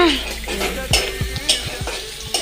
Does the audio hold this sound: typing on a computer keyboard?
no